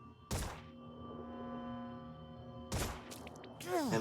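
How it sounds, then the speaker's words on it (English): Pistol fire in the video game Phoenix Point, two sharp shots a couple of seconds apart that ring out over a low sustained tone, with further game effects following. "And we're getting shot at with a pistol now."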